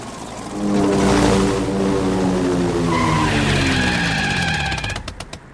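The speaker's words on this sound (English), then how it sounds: "Daddy Pig landed the aeroplane on the top of the mountain, right in front of Danny and Captain Dog." A cartoon propeller plane drones closer, its engine pitch sliding and growing louder before a fluttering rattle as it slows to land on a mountaintop.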